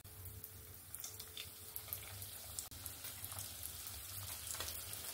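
Vegetable chops drop into medium-hot oil in a wok and fry with a soft, even sizzle under a low hum, with a brief break partway through. The sound is fairly faint and there is no talking.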